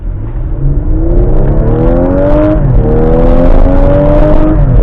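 An Audi SQ5 accelerates hard up to 100, its engine note climbing loud and close through a gear change partway, then continuing to rise with no talking.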